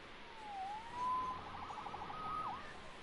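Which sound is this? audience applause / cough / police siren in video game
police siren in video game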